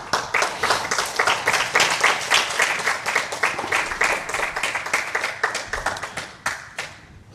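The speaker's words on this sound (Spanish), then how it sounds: "darle un aplauso al Señor" A church congregation applauds together, dense rapid clapping from many hands that swells and then gradually thins out over several seconds, with no speech over it.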